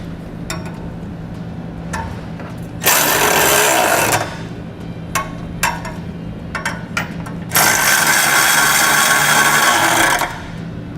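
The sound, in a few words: tightening trailer hitch bolts with 19mm socket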